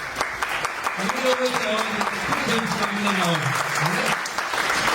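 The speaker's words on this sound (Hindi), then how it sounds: "जोरदार ताली आप सबके लिए।" Vigorous crowd clapping at a motivational seminar keeps a thick, continuous wash while someone talks loudly over it.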